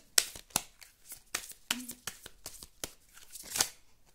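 Tarot cards are drawn and shuffled in a series of sharp, close slaps and riffles, roughly a dozen crisp bursts against a quiet background, with a brief voice partway through.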